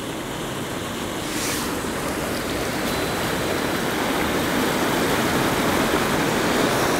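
Fast-flowing river water rushing past a mill at Graiguenamanagh, County Kilkenny, Ireland, a steady broadband roar that holds loud and even throughout, with no voices.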